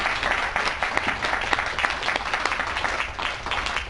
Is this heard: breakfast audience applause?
yes